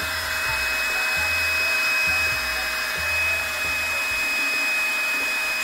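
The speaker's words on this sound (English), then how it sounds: "you're going to take the blow dryer and dry the lace down." A hair dryer blows with a steady, loud whirring hum and a high whine while drying the lace of a lace front wig, as a soft beat thumps underneath.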